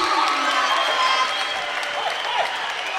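A basketball crowd at a Lady Eagles game cheers and applauds after a made three-pointer, steady loud roar and clapping throughout with no pauses.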